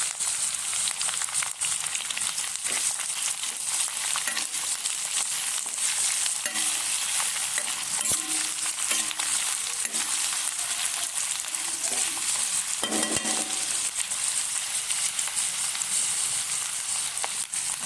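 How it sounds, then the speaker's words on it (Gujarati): A medium onion fries in a pan for batata poha, filling the whole stretch with a constant dense hiss of sizzling oil and frequent clattering stirs, with no talking. "હવે આપણે આમાં એડ કરીશું એક મીડિયમ સાઈઝ ડુંગળી ડુંગળીને આપણે વધારે શેકાવવાની નથી"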